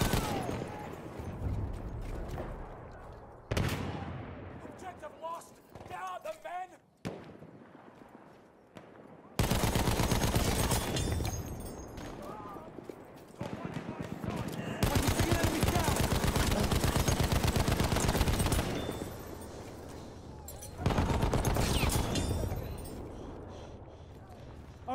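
Machine gun fire in the World War I shooter Battlefield 1, with an MG15 weapon and long sustained rattling bursts, loud and close, broken by short pauses, over other battle noise and game voice callouts.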